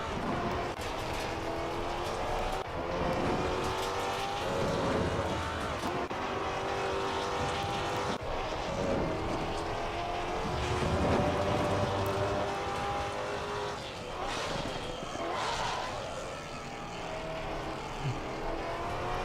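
Maserati GT4 race car at Brands Hatch in Assetto Corsa Competizione, engine roaring continuously with surging revs and tire noise as the car slides, loud and steady with no talk.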